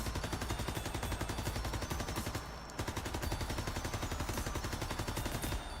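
An MP40 submachine gun in Call of Duty WW2 fires long rapid automatic bursts, loud and close, with a brief pause mid-burst before the steady rattling resumes.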